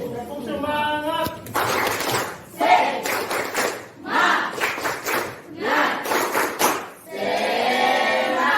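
A classroom of children chants and claps together in a 'tepuk semangat' routine, bursts of group shouting and rhythmic clapping in quick sections, loud and close, with a teacher's voice leading.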